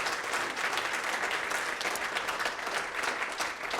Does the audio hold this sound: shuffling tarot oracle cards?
no